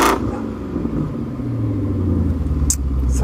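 A warmed-up BMW 645ci with its intermediate silencer removed, leaving two flap-valve silencers, rumbles loudly at close range, with the engine note rising and swelling as it revs.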